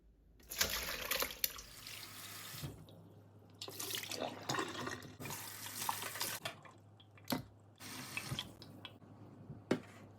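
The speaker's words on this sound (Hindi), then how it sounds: "कलेजी को धो लेते हैं।" Chicken liver, already soaked with vinegar, is rinsed by hand under a running kitchen tap, giving close, splashy bursts of water that start and stop in uneven surges, with drips and clatter between them and no voices.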